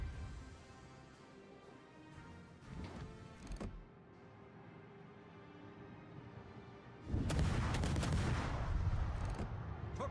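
Naval guns firing in the video game World of Warships, scattered booming shots and then a sustained heavy barrage of blasts and rumble, moderately loud and with no voices.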